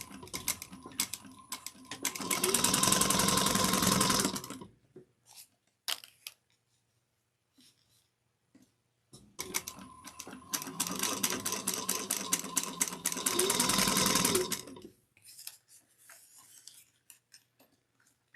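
Two long bursts of a sewing machine stitching a bucket bag, each a rapid, close mechanical chatter of several seconds, separated by a quiet pause with faint clicks and handling noises.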